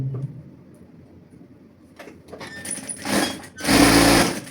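A sewing machine stitches a straight seam down the crotch of Christmas pyjamas, running in two short bursts that swell louder toward the end, with quieter handling before.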